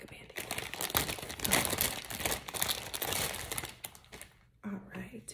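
Plastic packaging crinkled and ripped open up close, a dense run of crackling and tearing that pauses briefly near the end, with a soft voice in the background.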